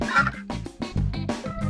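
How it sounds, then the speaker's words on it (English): Birds near a beach calling in a rapid series of loud, close, harsh squawks, about half a dozen bursts over a couple of seconds, with no talking. "look at these birds, guys."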